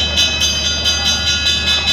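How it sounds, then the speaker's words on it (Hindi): A Coimbatore–Mumbai LTT Express 11014 train idles at a platform before departure, a steady low rumble with a constant mechanical hum and faint rhythmic pulsing, no voices. "चलो, ट्रेन छूटने का टाइम हुआ. ट्रेन छूटने वाला है अभी."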